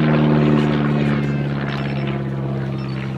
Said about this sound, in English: Designed as a training aircraft for the Luftwaffe, introduced in 1935, having flown the year before